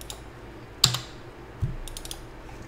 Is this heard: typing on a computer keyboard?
yes